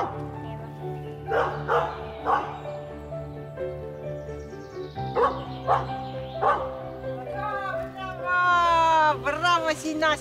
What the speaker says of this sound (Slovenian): Pes nam z laježem pove, jaz sem našel osebo,